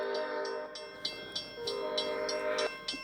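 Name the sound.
train passing by, Roblox-themed train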